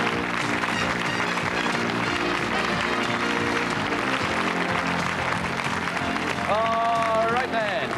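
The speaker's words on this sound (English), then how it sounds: "Let's give them a nice round of applause." A 1990 game show studio audience claps loudly and continuously as contestants take their places, a dense wash of applause with music swelling underneath and a brief rising tone near the end.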